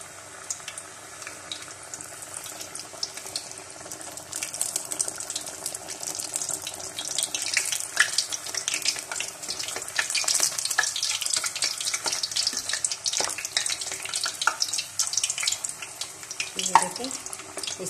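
Noodle taco shells frying in hot oil, a steady hiss and sizzle that builds gradually and continues alone without speech.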